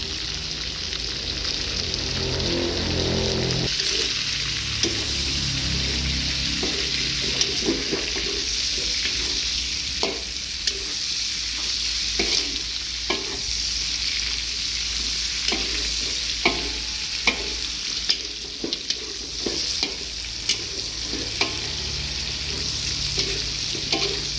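Large Bombay onions and coarsely pounded garlic fry in hot oil for a Javanese turmeric village chicken dish, a loud steady sizzle with frequent sharp stirring clinks and scrapes of a spatula against the pan.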